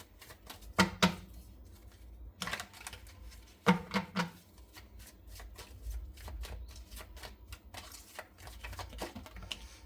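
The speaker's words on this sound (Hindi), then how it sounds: "तो चलिए मैं कार्ड शफल कर लेती हूँ" Tarot cards shuffled by hand, repeated riffling and flicking bursts with brief pauses between, close and fairly soft, with no talking.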